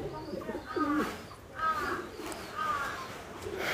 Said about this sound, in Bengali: এভ্রিলের বাচ্চা কবুতরটা ট্র্যাপিং খুবই ভালো, ও ল্যান্ডিং বোর্ডে বা ল্যান্ডিং ট্যাপডোরের সামনে ট্র্যাপিং করতে স্বাচ্ছন্দ্য বোধ করে।